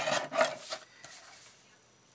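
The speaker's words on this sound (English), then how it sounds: "I'm gonna trim this just a little bit on each end just to make sure it's straight." A craft card being trimmed at each end, heard as a couple of short, close rasping cuts that fade into quiet.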